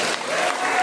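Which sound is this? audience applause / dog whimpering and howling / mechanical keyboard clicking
audience applause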